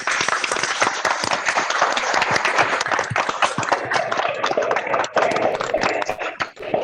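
Audience applause in a hall at a grand finale event, dense and steady clapping from a crowd, loud and close, sustained for several seconds with no talk over it.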